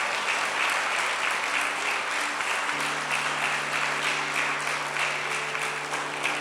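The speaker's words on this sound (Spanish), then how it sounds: "Dele un aplauso al Señor" Congregation applauding in church, a sustained, dense wash of clapping from many hands, loud and steady throughout, with a low held tone underneath.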